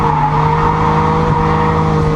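BMW 323i fitted with coilovers running on a race track, a loud steady engine drone with a hint of tire squeal, close and continuous with no voices.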